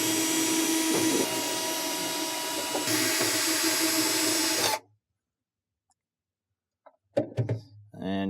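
A power drill or driver runs steadily for nearly five seconds, loud and continuous, removing 1/4 inch screws from a panel on a Whirlpool refrigerator, then stops into silence before a few brief handling knocks and clatter near the end.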